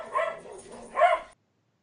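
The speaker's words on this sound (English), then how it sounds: "Gotta love those spontaneous barks." A dog barks twice, close and fairly loud, with two short, sharp yaps about three-quarters of a second apart, followed by silence.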